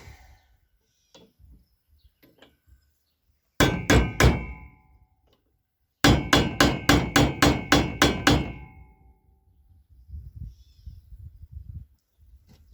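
A hammer taps a vehicle universal joint into place in two bursts: a few sharp metallic clangs, a pause, then a faster run of about eight ringing strikes, with faint birds and quiet workshop noise between them.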